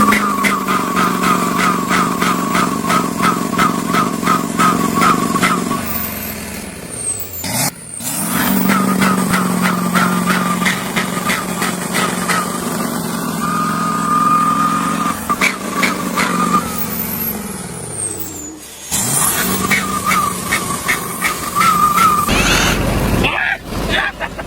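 Ford truck engine running very loudly, a harsh rattling roar with revving surges that drop out briefly and return, close and dominant, with people talking over it.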